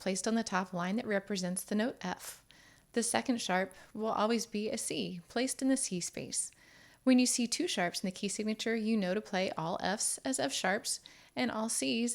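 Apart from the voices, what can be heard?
No everyday noise stands out behind the speech.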